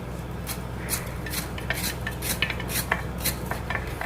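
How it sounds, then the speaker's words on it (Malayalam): A knife chops bitter gourd very finely on a board for a thoran, making quick, irregular light taps and clicks, close up over a faint steady background hum, with no voices. "തീരെ ചെറുതായിട്ടാണ് ഞാൻ കൊത്തിയാണ് അരിയുന്നത്"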